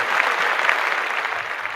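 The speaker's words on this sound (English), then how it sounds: "A round of applause for that." Audience applause during a live show, a brisk wash of many hands clapping that holds steady and then tapers slightly toward the end.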